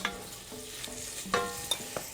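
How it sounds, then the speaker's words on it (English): Bacon frying in a pan, a sizzle with scattered sharp pops and crackles, steady hiss underneath, close and moderately loud, no voices. "Here, the bacon's starting to sizzle."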